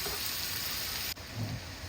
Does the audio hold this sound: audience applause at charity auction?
no